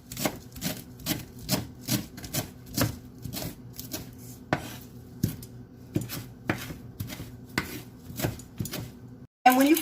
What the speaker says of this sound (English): Just a rough chop on this too.